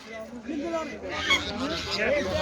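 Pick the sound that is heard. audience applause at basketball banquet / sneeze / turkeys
turkeys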